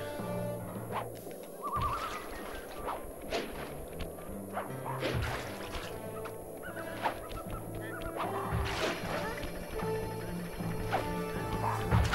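Cartoon ducks honk and squawk repeatedly in the Sly 2 video game, the calls rising over a busy bed of game effects with smashing and thwacking hits throughout.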